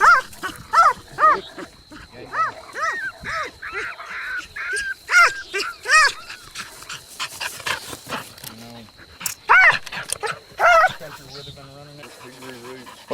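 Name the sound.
hunting dogs barking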